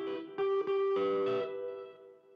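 An electric guitar played through a Fender '65 spring reverb simulator, like the reverb of a 1960s Fender amp: a few plucked notes and a chord ringing out, then a smooth reverb tail fading away.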